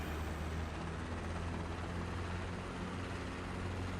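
A helicopter engine run up to full throttle with the clutch engaged and the governor on, giving a steady, droning whine and low hum that stays level and close for the whole stretch.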